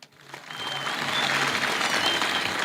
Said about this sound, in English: Big clap for him again.